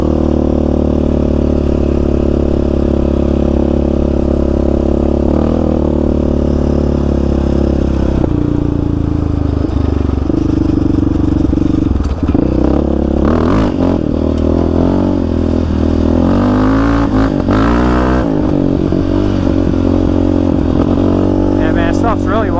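A Yamaha Raptor 700 ATV engine drones loud and close while riding washed-out desert trails and washes in Arizona, holding a steady roar that rises and falls with revving throughout.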